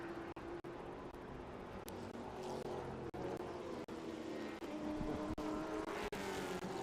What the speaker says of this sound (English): That Nitro Motorsports Ford Mustang lapping at